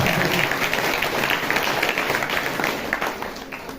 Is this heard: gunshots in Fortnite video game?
no